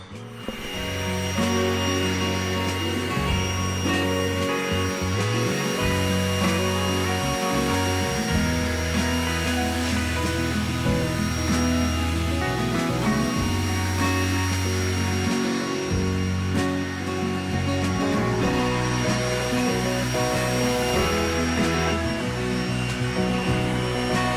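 An air blower dries a Corvette with a steady, loud whooshing stream of air that runs without a break, its tone shifting as the nozzle moves across the car's surfaces.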